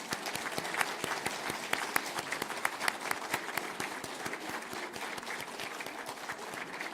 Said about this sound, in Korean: 우리 앉아 계신 내빈들 한번 힘차게 계속 한번 박수해 주시겠습니다